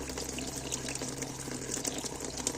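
Water gushes out of the open cooling-system drain tap on a Forte walk-behind tractor, a steady, strong, close hiss-and-splash stream that holds unbroken throughout with no voices.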